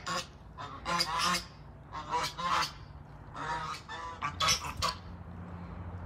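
Geese honk repeatedly outdoors, loud harsh calls in irregular bursts, several overlapping, close by with a quiet background between calls.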